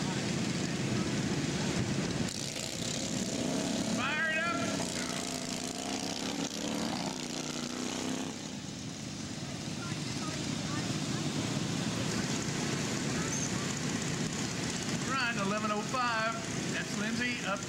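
Racing lawnmowers at a Fourth of July lawnmower race in Stephenville, Texas drone steadily at a distance, their engine noise blending with wind buffeting the microphone, while an announcer and crowd voices come and go over it.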